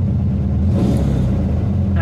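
The air-cooled engine of a 1974 Volkswagen Beetle, converted from a generator to an alternator, runs loud and close with a steady low rumble that swells slightly as it is revved.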